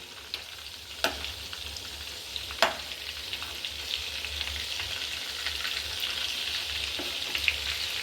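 Batter-coated chicken fries in hot oil in a pan, a soft continuous sizzle with a few sharp pops and scraping taps as the pieces are stirred and turned.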